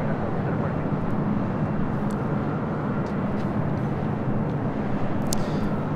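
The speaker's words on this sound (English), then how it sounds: "This is Delta Airlines Flight 424 heading to Minneapolis. It's the 757-200." Delta Airlines Boeing 757-200 airliner bound for Minneapolis at LAX, a steady, loud jet engine roar holding evenly throughout with no break.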